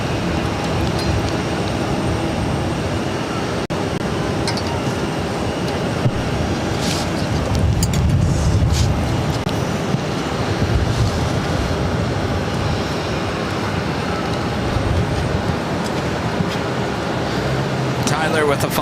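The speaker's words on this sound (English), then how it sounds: "got the Etihad Dreamliner going to be taking off on 22 left" An Etihad Boeing Dreamliner takes off from runway 22 left at Boston Logan, a broad, steady jet roar swelling in the distance amid wind and ambient noise, with no clear talk over it.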